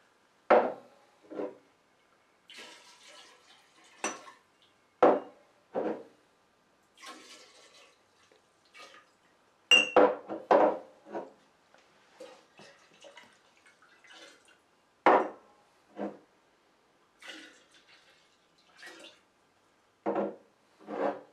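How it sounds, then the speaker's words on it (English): Liquid ingredients for a 7 Root Bourbon batch are combined in a mixing jar, heard as intermittent pours, sloshes and splashes broken by gaps and occasional knocks of glass, fairly close and with no talking. "we're going to mix these together in our mixing jar"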